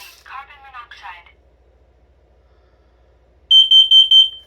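A combined smoke and carbon monoxide alarm sounding during a monthly test: a synthesized voice announcement, a short quiet gap, then four loud, piercing, evenly spaced high-pitched beeps close by.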